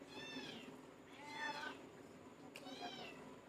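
Several cats meow in a row, three drawn-out calls spread over a few seconds, moderately close and soft against a faint room background with no clear talk.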